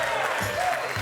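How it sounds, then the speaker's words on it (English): Studio audience applause rolls on at a Sunday night football talk show, a dense wash of clapping at steady volume with a voice faintly mixed in underneath. "keep the applause going"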